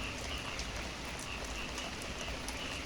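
Heavy rain pouring steadily onto surfaces, a dense continuous hiss with scattered drops and no pauses or voices.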